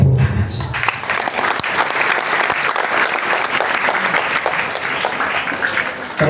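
Loud audience applause at an Islamic boarding school gathering, many hands clapping in a dense roar that starts abruptly and holds steady for several seconds, with faint voices mixed in.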